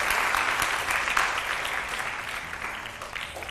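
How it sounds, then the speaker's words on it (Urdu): A studio audience at a Ramadan TV show bursts into sustained applause, dense and fairly loud, gradually thinning slightly over a few seconds with no clear talking. "ہم آپ کی محبت میں تالیاں بھی بجائیں گے تھوڑی سی، بہت ساری"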